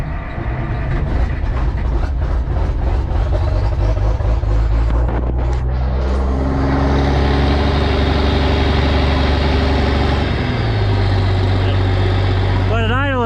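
Engine on a UniSystem corn picker cranks and fires, then settles into a loud, steady idle, its pitch dropping slightly near the end as it runs on alone.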